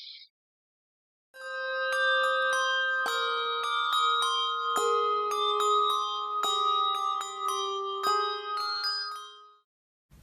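Handbells ring out Carol of the Bells for a Christmas massed ring, with clear, bright strikes in a steady repeating pattern that sustain and overlap, fairly close and alone before fading at the end.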